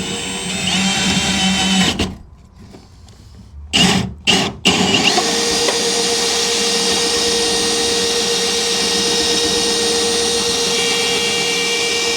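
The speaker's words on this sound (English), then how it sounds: "got the hole drilled through the floor for the drainage to go on down" A power drill bores a drainage hole through the floor of a crawler hauler build, a loud continuous motor whine that cuts out briefly, restarts in short bursts, then runs steadily to the end.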